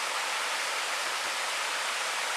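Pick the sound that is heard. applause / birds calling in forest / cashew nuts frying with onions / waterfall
waterfall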